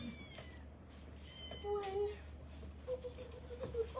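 Adult cats in a cattery meow faintly at a distance, a few scattered drawn-out cries over a low steady room hum.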